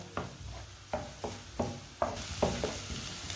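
Cumin seeds frying in hot oil in a pan on a relit stove, a soft continuous sizzle broken by about seven regular scraping stirs of a spoon against the pan, close and without speech.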